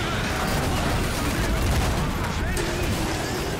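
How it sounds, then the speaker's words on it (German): Dense, continuous machine gun fire and battle noise fill a scene from the strategy video game Iron Harvest, loud and unbroken with voices talking over it. "Das MG tut mir nicht gut."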